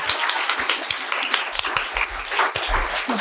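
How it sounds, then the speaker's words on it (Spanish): A live studio audience at a Spanish book talk show gives a short burst of lively applause, a dense patter of hand claps that stays steady and moderately loud throughout. "Otro aplauso, por favor, que amerita."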